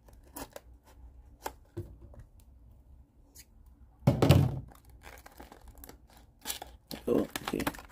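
Stikbot toy packaging is opened by hand, with short crinkles, taps and tearing bursts spread across the clip and one louder rustling stretch midway, while a person speaks quietly at times.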